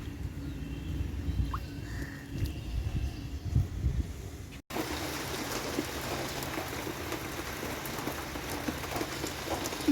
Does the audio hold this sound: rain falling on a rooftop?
yes